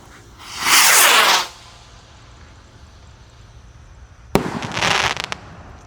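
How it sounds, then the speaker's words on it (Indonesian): A Pluto rocket firework launches with a loud hissing whoosh lasting about a second, then after a pause a sharp crack and a crackling burst follow. "roket Pluto siap meluncur"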